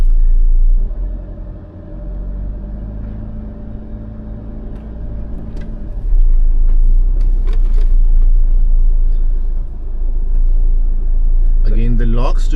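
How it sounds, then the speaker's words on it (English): A 2025 Jeep Meridian 4x4 in four-wheel-drive high range grinds over rugged terrain, its low engine rumble steady and close with a surge partway through, while people talk inside the cabin. "since we are engaging the 4-wheel drive locks, it's automatically in 4-wheel drive high range"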